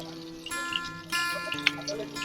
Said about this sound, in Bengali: পটল ভাজা তেলের মধ্যে আর একটু তেল দিয়ে দিচ্ছি